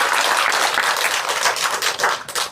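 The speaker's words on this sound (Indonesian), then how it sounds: "Boleh tepuk tangan juga buat Ibu Bapak." A crowd at an evening gathering following a book launch claps hands together in a loud, dense burst of applause, close and continuous, with a few louder individual claps near the end.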